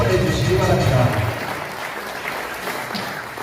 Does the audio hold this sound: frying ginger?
no